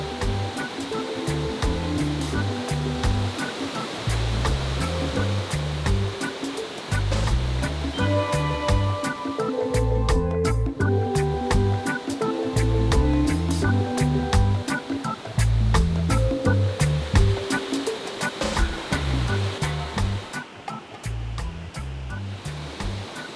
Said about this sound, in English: So this is called Nayaka Waterfall